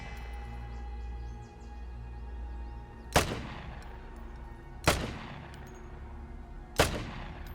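Three single gunshots ring out in the video game Vigor, each a sharp crack with a trailing echo, spaced a second or two apart over a low ambient background.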